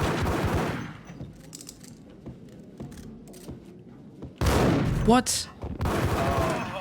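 Dual Beretta pistols firing in the video game Max Payne, a scattered run of quick gunshots with louder bursts near the end, a voice briefly speaking amid the shooting.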